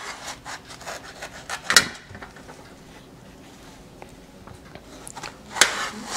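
A knife slices through a watermelon with soft, rasping, sawing strokes of the blade through rind and flesh, broken by two sharper crunching cuts, close and fairly quiet with no one talking.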